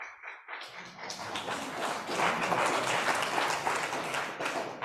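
Applause in a church during a worship service, a dense crowd of hands clapping that starts suddenly and holds steady and fairly loud for several seconds.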